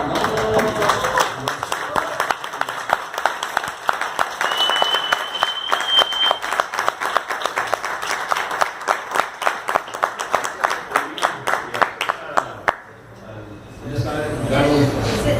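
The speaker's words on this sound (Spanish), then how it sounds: "Un aplauso." A crowd at a talk on cultural journalism in Jalisco applauds steadily for several seconds, rhythmic claps filling the room, then the clapping drops away before a voice starts speaking.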